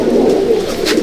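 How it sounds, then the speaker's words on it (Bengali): A Pilanka pigeon at a loft in Halisahar gives a steady, low, throaty coo that runs without a break and sits close and clear. "এটা পিলাঙ্কা পায়রা দেখুন"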